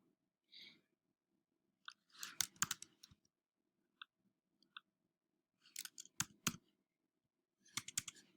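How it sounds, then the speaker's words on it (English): Several short bursts of quick, crisp clicking keystrokes, separated by pauses, close up and fairly quiet. "I'm not typing this very well, am I?"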